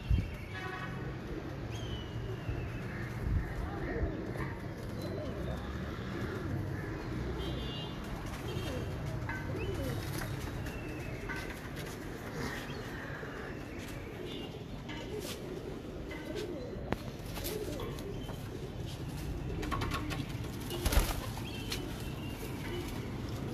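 Pigeons coo repeatedly in a loft, low soft calls overlapping continuously, with occasional wing flutters and scattered background noises and faint voices.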